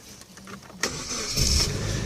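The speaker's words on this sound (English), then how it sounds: "Engine sounds spot on, no death rattle or anything like that." A Suzuki Jimny engine starts nearby: a short starter whirr, then the engine catches with a rise in volume and settles into a running idle, with no voices.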